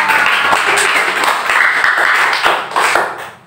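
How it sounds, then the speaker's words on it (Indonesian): A small group at a school meeting claps together, a brisk patter of hands with a few sharper individual claps, fading out at the end. "tepuk tangan untuk kita semua"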